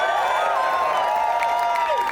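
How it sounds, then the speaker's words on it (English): An outdoor political rally crowd claps and cheers in a sustained wash of applause with scattered whoops, loud and continuous for a couple of seconds. "can we have a big round of applause for DSA?"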